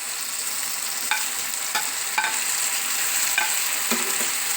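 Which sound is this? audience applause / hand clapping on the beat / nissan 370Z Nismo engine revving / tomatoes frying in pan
tomatoes frying in pan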